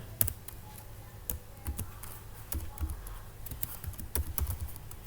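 Java code being typed on a computer keyboard, a quiet, close run of irregular key clicks with a few sharper taps scattered throughout, no voice over it.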